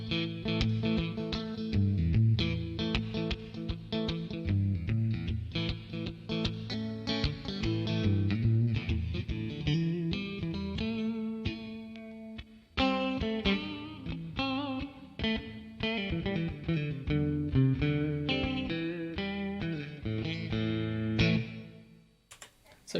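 Clean electric guitar tone played through a multi-effects unit preset, with chorus and echo coloring; sustained chords and picked notes ring steadily and fairly loud for over twenty seconds before fading out at the end.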